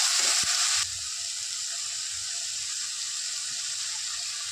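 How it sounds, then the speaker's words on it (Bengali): A masala paste of tomato, onion, ginger and garlic hits hot oil in a pan for an egg dish. It gives a bright, steady sizzle that flares loudest for the first second, then settles into a continuous frying hiss with no talking. "টমেটো পেঁয়াজ আদা রসুন দিয়ে মশলা করে নিয়েছি নিয়ে এই মশলাটা দিয়ে দিচ্ছি"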